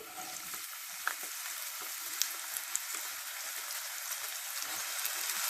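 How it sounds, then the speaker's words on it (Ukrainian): Steady crackling sizzle of onions frying in hot oil in a pan, with scattered small pops over a continuous hiss. "І трошечки її зараз смажимо"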